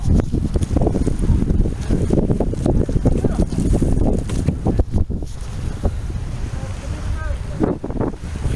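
Strong wind buffets the microphone in gusty rumbles on a beach pier, with water and surf sounds of the incoming tide near the shore mixed in.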